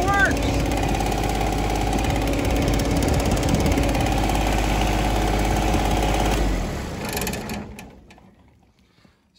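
A John Deere 2210 compact tractor engine idles steadily and close, a low continuous rumble that winds down and stops as it is shut off.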